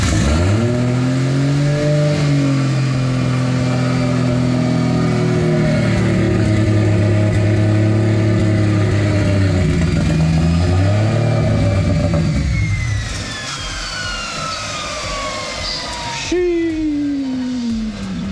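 A Ford Barra inline-six running on E85 in a Nissan R31 revs loudly and close up, the pitch climbing and falling through several blips before easing toward idle, with people talking over it.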